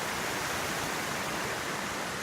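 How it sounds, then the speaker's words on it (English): Small waterfall flowing outdoors at Shady Cove, a steady broadband rush of falling water that continues evenly throughout with no voices. "we made it over to the waterfall"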